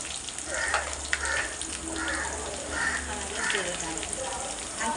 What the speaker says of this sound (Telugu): వేగనిద్దాం బాగా.